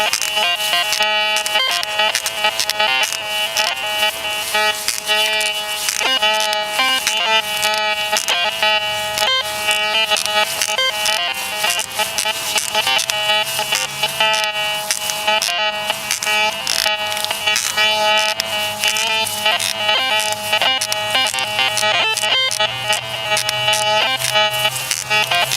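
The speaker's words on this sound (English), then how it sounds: "You hear those loud beeps?" An MX Sport metal detector in relic mode sounds a long, dense stream of loud, rapid electronic beeps that runs unbroken for over twenty seconds, close by with no voices.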